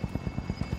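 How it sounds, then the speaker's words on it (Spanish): Helicopter in the Warzone video game, a steady rotor thump beating about seven times a second over a constant whine, close and loud with no voices. "Helicóptero en posición para tu depósito."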